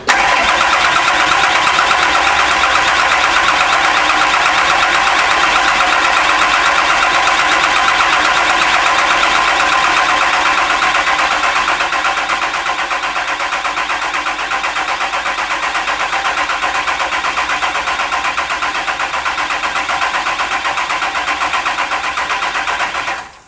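A 2000HP-capable Cummins diesel engine cranks and fires, then runs loud and steady for about twenty seconds before cutting off abruptly.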